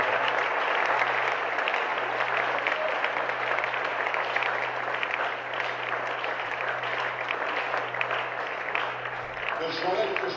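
A church congregation applauding loudly during a prophetic worship service, with sustained, dense clapping and crowd noise throughout and a low steady hum beneath, fading slightly at the very end.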